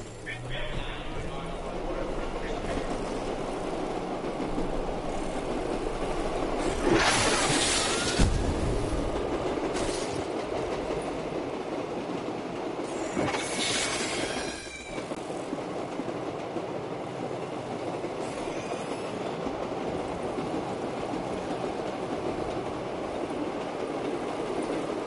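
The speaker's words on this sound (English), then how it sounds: "Maybe I should just keep riding the train." Rumble and clatter of a moving train on a ride high above a city, a continuous rolling noise with a few louder bursts, close and steady, while someone talks over it.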